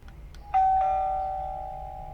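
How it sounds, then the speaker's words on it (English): A single electronic chime from a Kasa smart doorbell rings out clearly outdoors after a faint couple of clicks, its tone sustaining and slowly fading. "Here's what it sounds like from outside."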